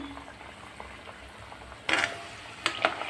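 Gujarati fafda frying in hot oil, a steady soft bubbling hiss throughout with a couple of louder crackling bursts near the end.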